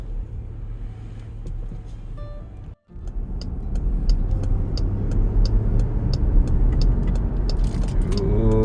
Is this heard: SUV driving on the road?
yes